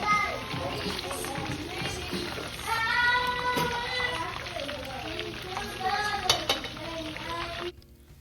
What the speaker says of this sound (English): So allow it to fry for a few minutes.